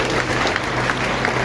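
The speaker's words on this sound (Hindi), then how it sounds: "एक जोरदार तालियां मेरे साथ करते हैं" Thick, sustained applause from a large audience of parents at a school morning event, many hands clapping together at high loudness throughout.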